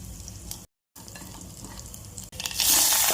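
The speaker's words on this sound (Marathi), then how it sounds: "जिरे मोहरी टाकून घेऊ" Cumin and mustard seeds crackle and sizzle in hot oil inside a pressure cooker, a steady close frying hiss with a short break, then a louder, brighter burst of sizzling toward the end.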